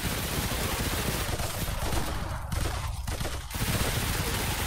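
Dense, continuous gunfire from a soulslike shooter set in Pompeii, a steady barrage of overlapping shots and bursts held at a constant loud level for several seconds with no talk.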